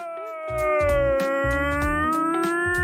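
A human voice imitates a wailing sound somewhere between a police siren and a beached seal, a long rising and falling tonal wail with strong harmonics, sustained loudly for about three seconds over rumbling low background noise.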